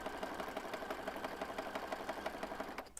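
A sewing machine stitching through a thick handmade Christmas junk journal, its fast, even mechanical chatter running continuously for a few seconds before it stops abruptly.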